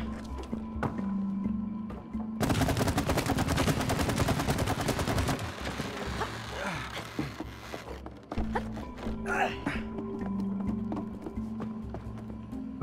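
A loud, rapid burst of automatic fire from the video game It Takes Two lasts several seconds over steady game music and ambience, then gives way to scattered effects.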